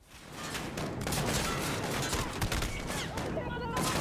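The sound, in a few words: suppressed M14 rifle shots in Call of Duty video game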